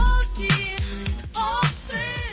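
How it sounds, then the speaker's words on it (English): Google's MusicLM AI music reconstructed from people's brain activity plays as a rhythmic track with punchy low drum thumps and hazy tonal synth-like layers, continuous and moderately loud. "recreates it into something that sounds like this."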